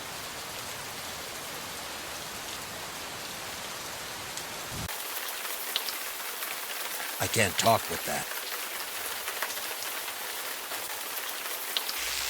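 Steady rain hiss falls throughout a scene in the point-and-click adventure game Gemini Rue, broadband and constant at moderate level, with a brief spoken line and a short burst of tones partway through.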